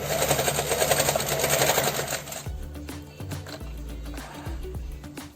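A domestic sewing machine straight-stitching the corners of a zipper pouch, running in a loud steady burst for over two seconds, then stopping and giving way to scattered clicks and handling noises close by.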